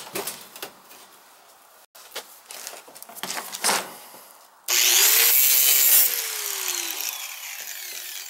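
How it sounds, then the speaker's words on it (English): An angle grinder cuts through furnace sheet metal after some scraping and handling noises, then bursts into a loud, bright, continuous whine that slowly drops in pitch as the cut proceeds. "I'm gonna cut that out with the grinder"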